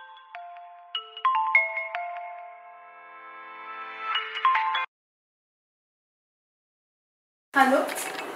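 A phone rings after a call is placed: a bright electronic melody of repeated tones plays for about five seconds, then cuts to silence before a voice starts speaking.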